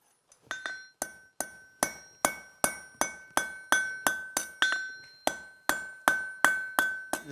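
Steel tongs are planished with a hammer, roughly sixteen sharp ringing blows at an even, brisk rhythm, each metallic strike close and bright with a brief decaying ring, no voices over them.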